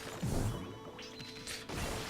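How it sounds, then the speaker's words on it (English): Objects get smashed in the video game Okami HD: a sharp crash near the start followed by breaking and clattering effects, then a second impact burst toward the end, with no talking. "I'm busy smashing things"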